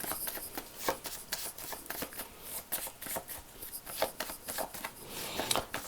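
Titania tarot cards are shuffled by hand close to the microphone, a quick run of crisp riffling and snapping card sounds in an irregular rhythm, quiet overall, with no voices.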